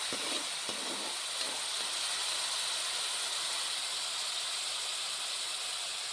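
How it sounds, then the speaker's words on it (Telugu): Spice paste for a village-style mushroom masala curry fries in a pan, giving a steady, loud, broadband hiss and sizzle that holds evenly throughout with no talking. "పేస్ట్ అనేది కొంచెం ఎర్రగా వచ్చినాక వేయించుకోవాలి"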